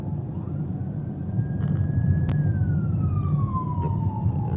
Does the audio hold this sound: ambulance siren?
yes